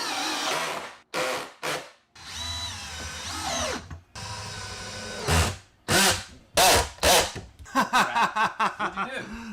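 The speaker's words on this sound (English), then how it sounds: "I pre-drilled all of the holes first, and then drilled in the screws." Power drill driving screws into a 2x4 wooden table frame, loud close bursts of whirring that start and stop repeatedly, ending in a quick series of short pulsing trigger squeezes.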